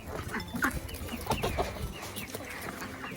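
Farm chickens cluck excitedly in short, overlapping bursts, close by and fairly loud, with no talking.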